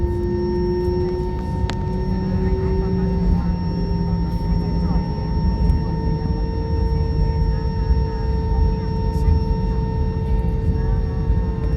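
An AirAsia X airliner comes in to land at Don Mueang airport, its steady jet engine drone and whine sustained and loud throughout, with someone speaking over it.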